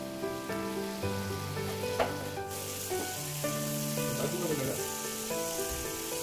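Tandoori chicken pieces frying with butter in a pan give a close, steady sizzle with occasional sputters and stirring clinks, running continuously without speech.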